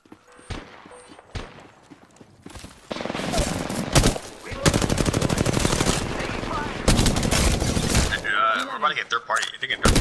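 Rapid automatic gunfire rattles in a shooter video game, opening with scattered shots and then swelling into long, loud sustained bursts with brief gaps, while a voice speaks over the action.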